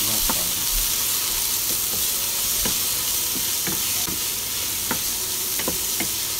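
Vegetables and peas sizzling in a pan, a constant hissing fry broken by periodic scraping clicks as they are stirred, close and alone.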